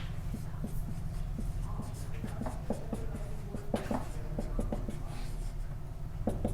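A pen writing out an equation on paper during a Class 12 maths derivatives lesson, giving a steady run of close scratchy strokes and small taps over a constant low electrical hum, with no speech.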